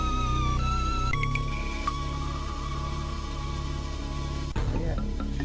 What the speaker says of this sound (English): just listen to that sound, that's the sound of an Amiga.